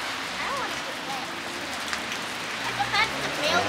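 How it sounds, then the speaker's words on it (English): Heavy rain pours steadily outside in California, heard from beneath a small awning as a continuous hiss of drops drumming on surfaces, with voices murmuring faintly in the background. "it's raining pretty gnarly today"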